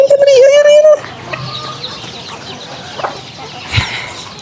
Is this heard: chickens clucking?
yes